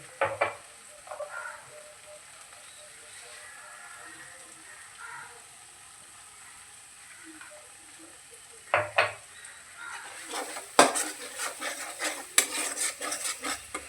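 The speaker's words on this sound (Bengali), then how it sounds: "মশলাগুলি ভালো করে কষে নিয়ে তেল বেরিয়ে আসলে" Chili, coriander and cumin powders fry in a pan for a fish curry, with a low, faint sizzle under scattered metal-spoon scrapes and taps, which grow into busy, louder stirring clatter toward the end.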